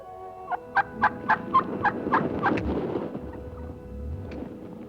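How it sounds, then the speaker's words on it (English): Wild turkey tom gobbles during its courtship strut, a rapid run of bubbling, warbling notes lasting about two seconds over a low rumbling background, moderately close. "The tom begins to strut and gobble."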